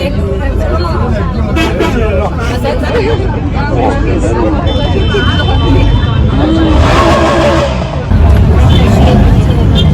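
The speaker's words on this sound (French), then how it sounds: "Trafic en Italie, ça arrête pas de klaxonner partout." Busy street traffic in Italy, dense continuous engine rumble and crowd hubbub close by, with car horns sounding repeatedly through the mix and voices talking over it.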